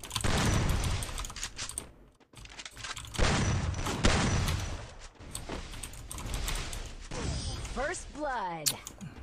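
Video game gunfire and bomb blasts, bursts of shots and booming thumps rising and falling over several seconds, with a sweeping whistle near the end and someone talking over the action.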